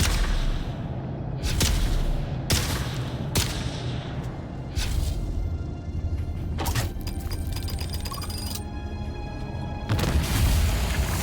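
Gunfire at poisonous mines in the video game Dune: Awakening, a string of sharp, loud booming shots at irregular intervals over a rumbling game background with mechanical tones.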